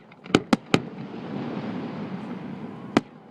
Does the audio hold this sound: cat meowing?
no